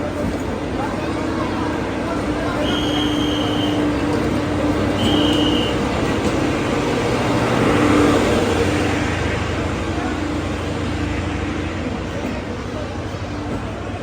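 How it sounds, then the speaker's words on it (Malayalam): Jhelum Express with LHB coaches reversing into platform 1 during shunting, a steady rumbling train and engine drone filling the scene, with brief tonal squeals and a broad swell of rolling noise near the middle. "ഷണ്ടിങ് ചെയ്ത് വരുന്നത്. റിവേഴ്സാണ്."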